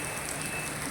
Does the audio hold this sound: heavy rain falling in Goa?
yes